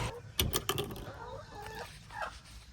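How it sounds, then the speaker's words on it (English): A few laying hens cluck softly nearby after some brief clattering handling noises at the start. "These are our big chickens. These are the laying hens."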